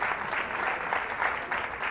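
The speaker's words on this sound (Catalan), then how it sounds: "Aplaudiment, no?, aquests quatre instituts." Audience applause for four school teams at a Terrassa quiz show prize announcement, a steady dense patter of many hands clapping at moderate level throughout, with no talk over it.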